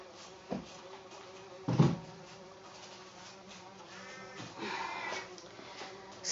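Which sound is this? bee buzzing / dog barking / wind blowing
bee buzzing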